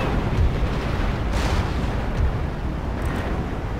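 Cannon fire booms without letup through a naval battle in Empire Total War. The heavy rumble is dense and continuous, with a few sharper blasts rising above it.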